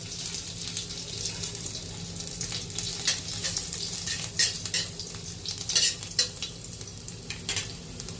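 Garlic and cumin sizzle in hot oil for a spinach curry, a steady, hissing fry with scattered crackles and stirring scrapes, moderately close, with no talk.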